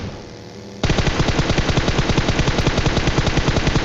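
Rapid machine-gun bursts in a military shooter game, sudden onset after a quiet start, then a loud continuous stream of evenly spaced shots close up.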